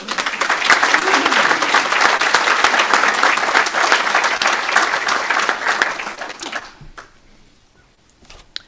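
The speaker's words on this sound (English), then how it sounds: "I'm going to pause there so you can give a round of applause" Audience applause at a weekly Rotary Club of Baton Rouge hybrid meeting: steady, dense clapping from a crowd sustained for about six seconds, then fading away to quiet with a few scattered claps.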